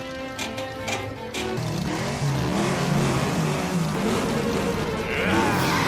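Cartoon car engine from Futurama revving hard, a loud continuous roar that climbs and surges in pitch, with brief rumbles at the start.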